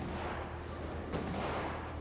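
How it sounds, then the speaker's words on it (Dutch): Gunfire in the game GTA during roleplay, a faint, muffled burst of distant shots with one sharper crack in the middle, over a steady rushing background noise. "Hoorde die schoten?"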